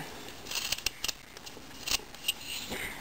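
Scissors snip close up in a quick series of short, sharp cuts, some clustered in pairs, against a quiet background with no talking.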